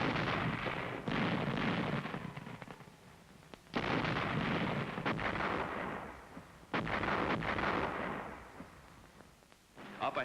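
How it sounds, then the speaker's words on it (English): Howitzer artillery barrage on Iwo Jima: heavy, rumbling bursts and booms rolling in repeated surges, loud and dense with no talk. "the infantry watched the smoke and bursts of the barrage"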